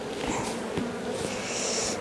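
Bees buzz steadily around a brood frame lifted from a hive, a close, continuous drone with a few brief bumps and rustles.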